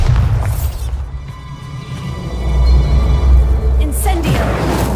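The Bombarda explosion spell in Hogwarts Legacy goes off as a deep, heavy boom followed by a rolling low rumble and crackle, with a voice briefly present.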